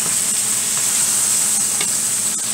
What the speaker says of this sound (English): Alright, cabbage is in. Mix it around.